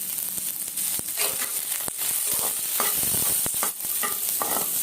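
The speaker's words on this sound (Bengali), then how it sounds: "গাজর আমি 2-3 মিনিট ফ্রাই করে নিলাম।" Carrots frying in a pan with lightly fried onion and sweet potato, a steady sizzle under repeated stirring scrapes and clinks close by, with no talk.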